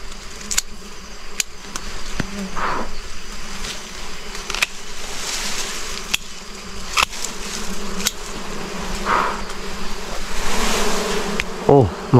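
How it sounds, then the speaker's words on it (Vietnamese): Dwarf honey bees swarm around a hive outdoors, a dense, continuous buzz close by with individual bees zipping past the listener, steady throughout with no talking. "Này ong nó đang vô mật nè"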